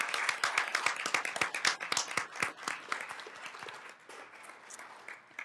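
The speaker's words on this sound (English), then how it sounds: "if we could have a round of applause for our guests this evening" Audience at a school district governing board meeting claps for evening guests, a dense burst of many hands that starts strong and gradually thins and softens, with no talk over it.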